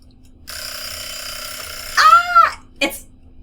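A mechanical countdown timer's alarm goes off: a sustained metallic ringing, then two louder bell-like bursts and a short final ring, close and alone.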